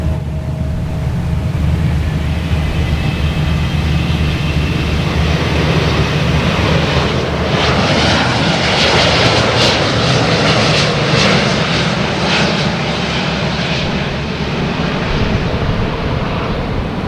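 A Delta jet airliner at Boston Logan Airport roars loudly and steadily with a deep engine rumble, the whine and rush swelling toward the middle before easing slightly, no talking.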